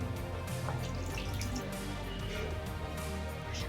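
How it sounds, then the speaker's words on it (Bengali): Tender green coconut water is poured from the cut nut into a vessel for a prawn dish, making a steady close trickle and splash that runs for a few seconds with no talking. "আর এই জলটাকে আমি একটা পাত্রে ঢেলে নিচ্ছি।"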